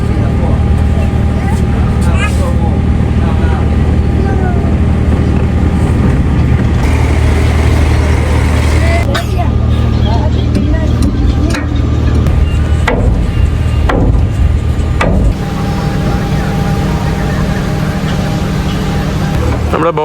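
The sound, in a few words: river boat engine on the Amazon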